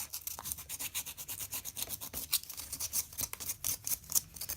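Sandpaper rubbed by hand over a handmade puppet's surface, quick scratchy back-and-forth strokes in an irregular rhythm, close and fairly soft.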